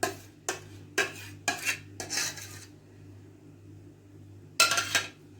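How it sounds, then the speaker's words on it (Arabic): Biscuits are crushed finely for a layered cold dessert, with a run of short, gritty crunching bursts in a quick, regular rhythm, a pause, then one more burst over a low hum. "هانتوما كتشاهدوا كنطحنها مزيان ما كنخليش حتى شويه ديال البسكويت"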